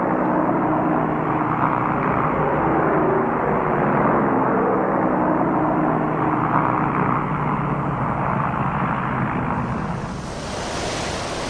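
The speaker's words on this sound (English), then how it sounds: "the B-17s were ordered to take off once more to prevent them being caught on the ground" B-17 bombers taking off from the Midway airfield, a loud, steady, rushing engine roar that holds for several seconds and then thins out near the end. No voices are heard.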